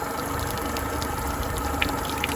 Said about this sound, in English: back again with a full bag and the engine running. Great pressure out of the telltale.